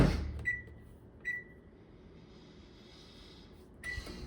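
A microwave oven beeps three times, short electronic tones separated by quiet pauses, with faint handling sounds around them.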